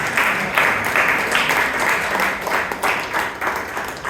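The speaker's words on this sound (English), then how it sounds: "give a round of applause to Muralidharan" Audience applause at a Bangalore Toastmasters club meeting, a room of people clapping steadily at moderate loudness with slight pulsing, no voices over it.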